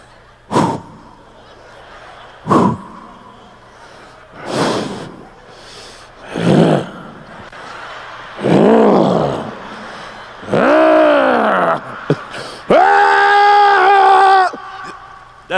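A comedian on a stand-up stage imitates a man's heavy breathing, with loud rhythmic huffs and groaning gasps that grow longer and stronger, ending in drawn-out strained moans.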